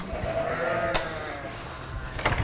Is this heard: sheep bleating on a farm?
yes